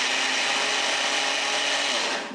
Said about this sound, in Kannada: ನಾನು ಮಿಕ್ಸಿಗೆ ಹಾಕಿ ಮಾಡ್ಕೊಳಕತ್ತೀನಿ.